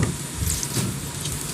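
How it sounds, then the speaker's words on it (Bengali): A cup of water hits hot oil and spice sauce in a pan for tandoori chicken, giving a loud, steady broadband sizzle and crackle, close and continuous with no talking. "একটু নাড়া দিয়ে আমি 1 কাপ পানি দিয়ে দিব।"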